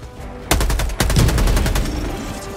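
Rapid turret gunfire from the video game Helldivers 2, a loud burst of repeated shots starting after a short pause and continuing steadily in a fast, even rhythm close up.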